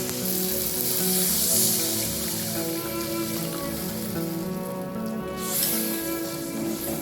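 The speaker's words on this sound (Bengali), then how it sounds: "এবার এই মশলাটার মধ্যে পরিমাণ মতন জলটা দিয়ে দেবো" Water poured into spice paste that has been fried down until the oil separates, for a banana-flower and egg curry, setting off a steady, loud sizzle and crackle that holds for several seconds with faint stirring and no voices.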